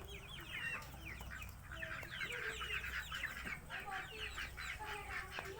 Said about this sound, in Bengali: এখানে কত মুরগি